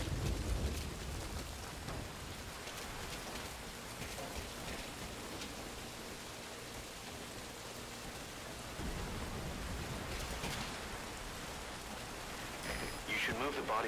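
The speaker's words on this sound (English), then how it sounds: "That rain just won't let up." Steady rainfall in the stealth video game Metal Gear Solid V: Ground Zeroes, a soft continuous hiss of rain on surfaces with faint low rumbles, fairly quiet throughout.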